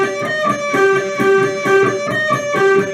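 Piano intro of a song played on an electric guitar instead: a repeating, evenly paced riff of bright picked notes, close and clear, with no one talking.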